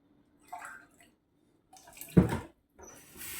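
Water poured into a tart mixture of orange blossom water and toasted almonds, a short splashing pour between quieter kitchen handling noises, close and moderately loud, with no one talking.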